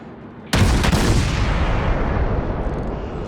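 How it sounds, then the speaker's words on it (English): Warship main guns in World of Warships fire a loud booming salvo at once, followed by a long rumbling roll that slowly fades, with no voices. "I'm scattering my shots, learning the speed, getting a good idea of just where I need to aim"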